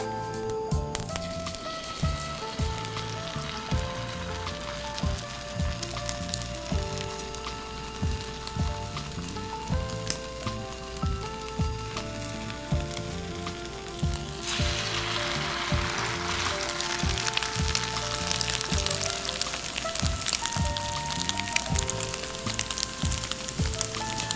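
Slices of PB&J sandwich dipped in French toast batter fry in a pan with a steady close sizzle that grows louder and fuller partway through, while soft background music plays underneath.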